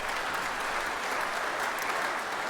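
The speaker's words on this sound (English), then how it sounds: "Let's give them a round of applause." A crowd applauds steadily and densely throughout, a continuous wash of clapping from many hands with no pauses or voices standing out.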